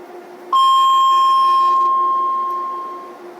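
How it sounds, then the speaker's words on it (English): A single bright electronic train station arrival chime pings once, loud and clear, then rings out and slowly fades over a steady background hum, in Cyprus. "each station like making this kind of ping sound"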